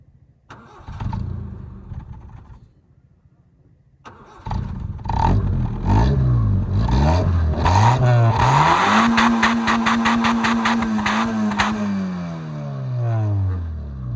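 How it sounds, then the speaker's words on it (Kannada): A 25-year-old Honda City Type 2 1.5 sedan on its stock exhaust cranks briefly, catches and settles, then its engine is revved repeatedly, rising and holding high before easing back, loud and close with no talk. "ಇಂಜಿನ್ ಸೌಂಡ್ ಆನ್ ಮಾಡಿ ತೋರಿಸ್ತೀನಿ ನೋಡಿ ಯಾವ ಥರ ಇದೆ ಅಂತ"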